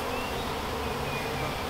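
Dense, steady buzzing of many honeybees from a bee package set at a hive entrance, a continuous close drone with a few higher individual wing whines over it.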